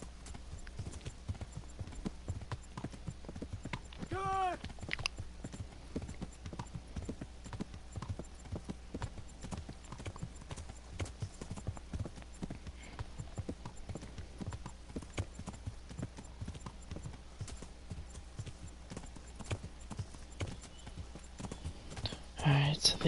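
Horse hooves clip-clopping steadily in the video game Kingdom Come: Deliverance, a continuous close rhythm of hoofbeats with a brief whinny early on and a voice talking over it.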